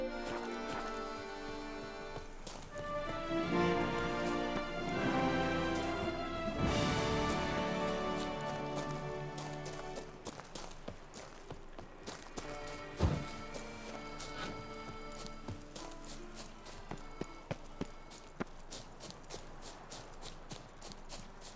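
Rhythmic hoofbeats of a galloping horse in The Witcher 3: Blood and Wine over game music, steady and continuous, with a few sharper thumps along the way.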